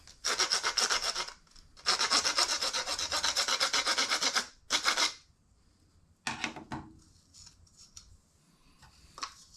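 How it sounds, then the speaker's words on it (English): Rasp filing a piece of a homemade shrimp gun: two long bouts of rapid back-and-forth scraping strokes, then a short burst, followed by quieter handling scrapes and pauses, close and alone. "I'm actually using a rasp and not a file"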